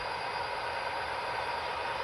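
A model oil train runs on a layout with a continuous, even whirring rumble, steady and close, with no voices or pauses.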